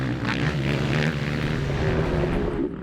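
A big 500cc two-stroke motocross bike at a race, its engine droning steadily at a fair distance, loud and continuous with a slight shift in pitch near the end.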